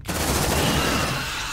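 Sustained burst of automatic gunfire in the sci-fi squad game Aliens: Dark Descent, a dense continuous rattle that stays loud and steady for the whole moment with no talk over it.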